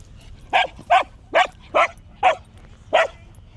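Dog barking six times in short, evenly spaced yips, fairly close, over a faint outdoor background by the seaside.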